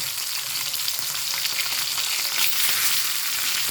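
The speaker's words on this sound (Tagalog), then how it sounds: "magprito na sad ta sa atong isda" Fish frying in a pan of hot oil, a steady dense crackling sizzle, loud and close, continuous throughout without talk.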